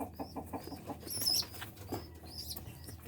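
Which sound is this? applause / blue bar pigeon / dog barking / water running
blue bar pigeon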